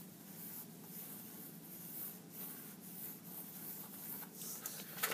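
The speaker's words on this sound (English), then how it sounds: "So let's just draw a couple of circles." A pen scratches out a large circle and a small one on paper, a quiet continuous rubbing with faint rhythmic swishes, close and alone.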